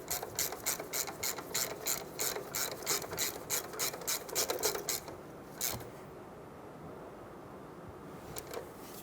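A ratchet wrench snugs down a brake caliper bolt on a Chevrolet Silverado 1500 pickup, a close series of quick even clicks that slows and stops, followed by a pause and a few last clicks.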